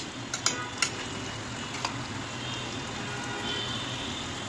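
Ground chili, coriander and cumin powder are stirred and fried in a pan, giving a soft continuous sizzle with a few sharp scrapes and clinks of the utensil early on.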